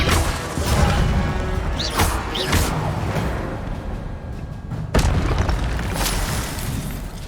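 Incendio fire spell cast in the video game Hogwarts Legacy, heavy booming blasts with crackling fiery whooshes, several sharp impacts at irregular intervals, including a loud hit near the end, under continuous game noise.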